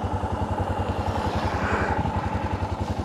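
Motorcycle engine running steadily during a ride on the road from Mirik toward Kakarbhitta, Nepal, a continuous low throbbing hum with wind rush, close and fairly loud throughout.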